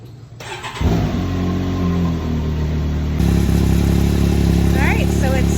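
Can-Am Maverick X3 side-by-side engine cranking and firing up after an oil change, catching within a second and settling into a loud, rough idle that steps up in revs partway through, close by with a person talking.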